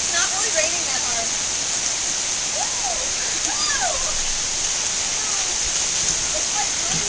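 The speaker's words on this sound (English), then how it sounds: "It's not really raining that hard." Steady rain falls onto a sidewalk in a dense, continuous hiss and patter close by, while faint voices talk underneath.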